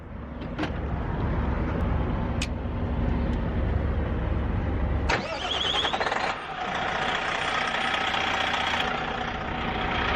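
Car engine with an air leak cranked and started, a low rumbling run giving way to a rough, uneven idle with higher whining tones, close and loud, no talking.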